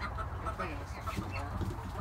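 Chickens cluck softly inside a newly finished backyard coop, scattered low murmuring clucks close by, with a person's voice talking faintly underneath.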